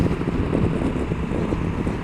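Steady broadband wind roar buffets the microphone while riding a Honda NT1100 motorcycle, a continuous rushing blast with the engine buried beneath it and no voices.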